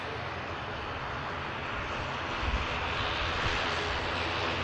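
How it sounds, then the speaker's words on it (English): An Emirates Airbus A380 comes in to land at Manchester Airport, a dense, steady engine roar and rushing air at moderate distance, unbroken and without talk. "Emirates Airbus A380."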